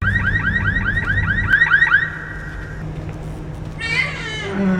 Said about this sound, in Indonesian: tiba-tiba alarm mobil berbunyi